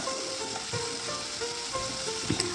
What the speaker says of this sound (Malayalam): പച്ചമുളകും മുളകും എല്ലാം പോലെ ഒന്ന് വഴന്ന് വരുന്ന സമയത്ത് അതിലേക്ക് നമുക്ക് തക്കാളി ഒരു തക്കാളി ചെറുതാക്കി കട്ട് ചെയ്തിട്ട് ചേർത്ത് കൊടുക്കുക